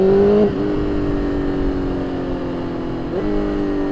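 A BMW S1000RR motorcycle engine while riding, holding a steady loud drone with a clear gear-change dip near the start and another shift later on.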